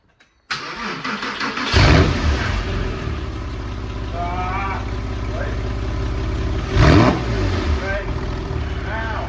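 A Porsche 911 (996) engine cranks and catches, then settles into a steady rumbling idle with a brief rev, close and loud throughout.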